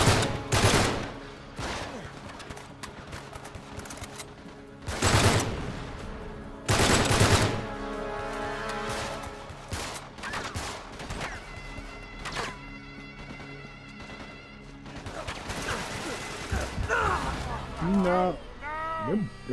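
Gunfire in the video game Uncharted 3: Drake's Deception, with heavy bursts and rapid volleys of shots mixed with impacts. Characters talk over the combat throughout.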